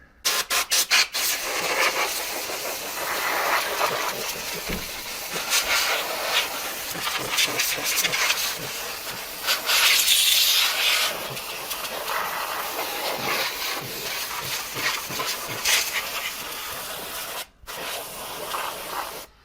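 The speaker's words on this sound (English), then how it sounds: "we're going to do is blow this out with some compressed air" Compressed air blasting dust out of the inside of a dusty Sherwood CD-345R dual cassette deck, a loud continuous hiss with bursts and pauses lasting about seventeen seconds, close up with no talking.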